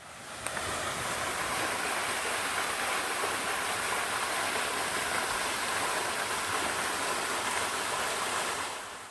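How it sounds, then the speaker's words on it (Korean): Steady, loud rush of a waterfall over 5 m high in a valley in Wonju, Korea, roaring continuously and close, a dense broadband wash with no voices. "이곳은 칠석 폭포입니다."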